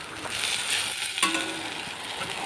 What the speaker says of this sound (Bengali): নেড়ে চেড়ে একটু ভালো করে এর সাথে ভাজা ভাজা করে নেব